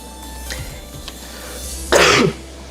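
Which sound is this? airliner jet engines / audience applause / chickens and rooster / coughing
coughing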